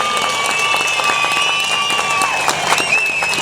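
A crowd at a political rally in Turan Emeksiz Square applauds, and high ululating cries carry over the clapping. The sound is dense and sustained, with scattered claps throughout.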